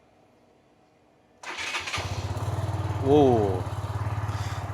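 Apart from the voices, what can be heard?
motorcycle engine starting in the morning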